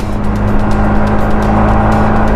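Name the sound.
car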